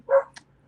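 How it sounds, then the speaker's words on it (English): A single dog's bark rings out close by during an indoor interview, one short loud woof followed by a faint yip, then near silence. "I apologize for my dog."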